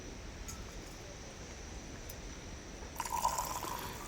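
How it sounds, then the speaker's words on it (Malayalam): Water poured into a bamboo tube holding rice for chicken biryani in a village kitchen, a short splashing fill that rises near the end of a quiet outdoor stretch. "അപ്പോൾ പാകത്തിന് വെള്ളം ഒഴിക്കുക."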